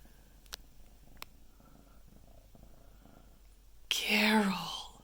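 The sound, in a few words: cat purring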